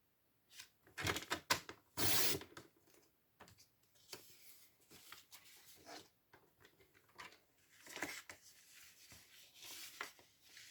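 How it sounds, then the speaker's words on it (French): Scissors snip through paper while a paper dinosaur is cut out, giving a close, irregular run of crisp clipping and rustling crackles, with a few louder cuts near the start and lighter snips after. "Hop, et on coupe."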